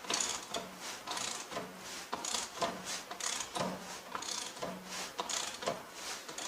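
A wrench loosens the wheel-bolt nuts on a Farmall Cub tractor, giving a steady series of ratcheting clicks and metallic clatters in roughly half-second strokes, fairly quiet and close, with no talking.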